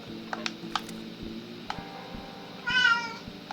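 A pet cat meows once, close and clear, over a quiet room with faint ticking and light tapping clicks.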